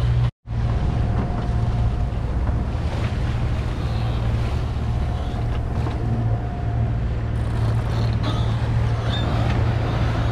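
An unreliable sailboat engine runs at sea off the Portuguese coast, a steady low drone under gusting wind, microphone buffeting and lapping waves, with a brief dropout near the start.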